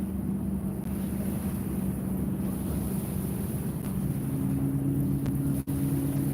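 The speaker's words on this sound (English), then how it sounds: "I hope you guys can hear me well over all these loud boat motors" Steady, loud engine drone of boat motors on the Ohio River, heard from the riverbank, with a low rumbling hum throughout, constant and close, with no voices.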